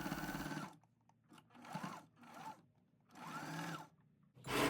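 A sewing machine stitching lining to fabric for a small snap-button keychain wallet, running in three or four close, whirring bursts with short pauses between them, with no talk.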